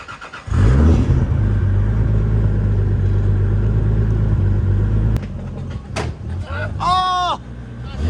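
A car engine rumbles loudly and steadily up close as the vehicle is driven onto a trailer, easing off near the end while people shout over it.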